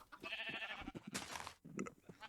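Sheep bleat in a hardcore survival video game set on a large farm, a few short, quiet bleats in quick succession.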